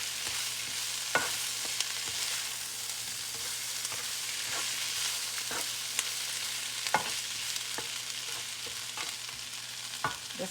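Brussels sprouts and turkey bacon sizzle and crackle steadily in a frying pan, with a constant close hiss broken by occasional small pops and light stirring clicks.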